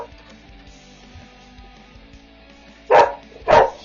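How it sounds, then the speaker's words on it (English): Dogs at home give two loud barks close by near the end, after a stretch of quiet background with faint small noises. "My dogs are so loud."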